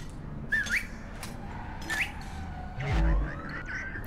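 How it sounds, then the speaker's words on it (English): Short whistled notes in the South Park Phone Destroyer video game, two quick rising chirps followed by a longer sliding tone, over a low game background with a brief thump near the end. "Whistle the tune of Hoglumut."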